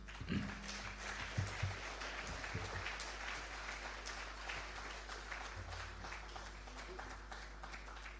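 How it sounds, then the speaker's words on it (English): Applause for the Honorable Minister at a Diaspora Summit 2025 media launch, a faint, steady round of clapping from an audience over a low hum, with some voices mixed in. "another round of applause for our Honorable Minister"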